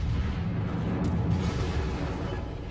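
Battleship guns booming in the naval game World of Warships, a dense, rumbling low roar of heavy cannon fire that stays loud and continuous throughout with no clear separate shots.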